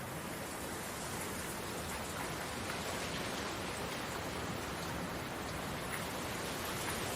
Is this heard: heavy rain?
yes